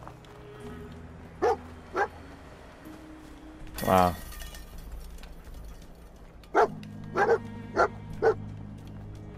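A dog in Fallout 4 barks several times in short, separate yips over a low background drone, and a single brief voice speaks once.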